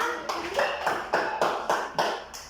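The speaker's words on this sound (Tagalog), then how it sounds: "Okay, bigyan ng palakpak." Children in a classroom clap together in a steady, evenly spaced rhythm of about seven sharp claps, close and lively, with no speech on top.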